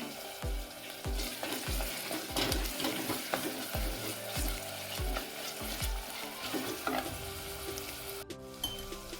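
Ginger and garlic fry in a pan with a steady, close sizzle, and a spoon or spatula scrapes in a regular rhythm at about eight strokes across the clip. No one speaks.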